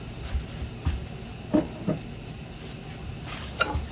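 Flour or roux browning in hot bacon grease for Southern tomato gravy sizzles faintly in a pan, punctuated by several soft scraping stirs of a utensil against the pan.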